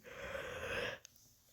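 Someone yawns late at night during a mobile puzzle game session, a long breathy exhale lasting about a second before trailing into quiet.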